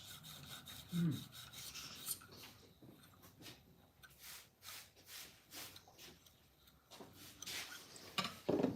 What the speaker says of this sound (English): This is a YouTube video of sharpening knives.